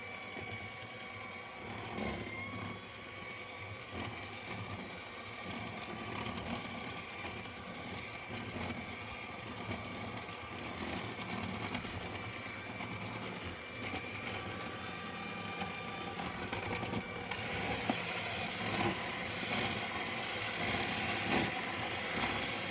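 An electric mixer whips whipped topping mix with a full cup of milk, giving a steady, continuous motor whir with a faint rattle that runs unbroken and fairly quiet throughout.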